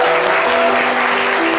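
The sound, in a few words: audience applauding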